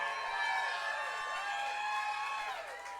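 A large festival crowd on a mountainside cheers and whoops in a steady, continuous roar, loud and sustained throughout.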